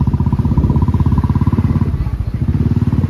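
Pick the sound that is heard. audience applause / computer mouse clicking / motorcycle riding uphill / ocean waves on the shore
motorcycle riding uphill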